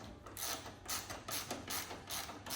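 A ratchet spanner clicks in quick bursts while undoing a roof bolt on a 1974 VW T2 Late Bay Westfalia camper, several close, crisp rattling strokes in an irregular rhythm with short pauses between.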